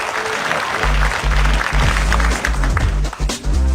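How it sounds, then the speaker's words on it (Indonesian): A studio audience gives loud, dense applause for host Christian Sugiono at the Olimpiade Indonesia Cerdas quiz show, with steady clapping over a bed of show music. "mari berikan tepuk tangan untuk pembawa acara kita, Christian Sugiono"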